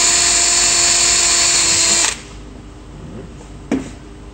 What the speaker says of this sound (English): You drill a little hole here.